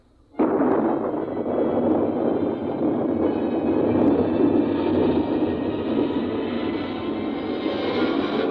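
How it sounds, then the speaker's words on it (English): A rocket blast-off effect from an old radio drama erupts suddenly after a brief silence into a loud, sustained roaring rumble that holds steady for several seconds. "Countdown for blast off."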